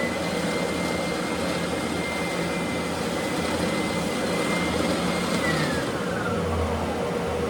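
An electric sander runs steadily and loudly nearby while a rubber sandpaper cleaner is pressed to its sawdust-clogged pad, giving a constant whirring roar with a faint rising whistle near the end and no talk.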